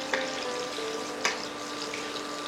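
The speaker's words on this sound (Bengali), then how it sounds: "এবার অবশিষ্ট তেলে ফোড়ন দিন কালো জিরে এবং তার সাথে মাথা চেরা বেশ কয়েকটি কাঁচা লঙ্কা।" Black cumin seeds and slit green chillies tempering in hot leftover oil, a dense close sizzle with a couple of sharp crackles, heard alone without speech.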